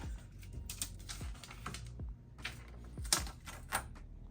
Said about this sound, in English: You hear that? It's my little wonky table.